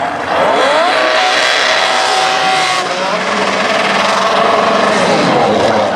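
A 267-cubic-inch V6 dragster at a national drag racing event roars loud and close without a break, the engine pitch sweeping upward under throttle with a high rasping edge. No one speaks.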